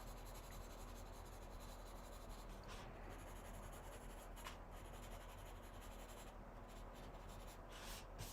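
Colored pencils scratch and rub across wood grain paper in steady, faint strokes with brief pauses, close up and quiet.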